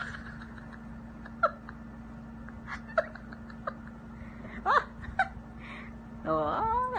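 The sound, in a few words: cats fighting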